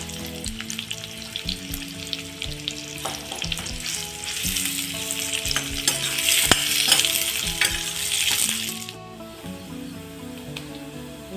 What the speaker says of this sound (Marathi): हे कांदे आता थोडे तुम्ही चांगले लाल परतून द्या